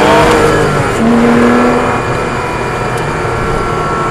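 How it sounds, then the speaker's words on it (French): A car accelerates hard in third gear on a track, its engine loud and close with a steady rising drone and a brief higher whine early on, heard alone. "Et vas-y, débraque et accélère. Allez, la 3."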